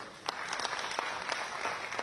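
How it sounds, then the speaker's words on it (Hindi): An audience at a speech by Amit Shah at an intellectuals and eminent citizens meet in Rohtak, Haryana, claps in a faint, distant patter of scattered hand claps lasting a couple of seconds. "आप लोग ताली बजा रहे हो।"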